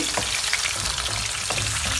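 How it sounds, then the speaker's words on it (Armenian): Steady, dense sizzling of chicken breast frying in a hot pan, loud and continuous with a few soft crackles and no voices. "Տապակում ենք մինչև կարմրելը։"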